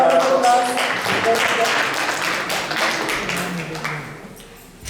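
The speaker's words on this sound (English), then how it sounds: "Please give a big round of applause" A crowd claps and cheers steadily, a dense wash of applause that slowly fades toward the end.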